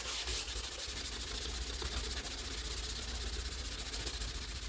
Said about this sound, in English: I'm going to hand sand the blade first.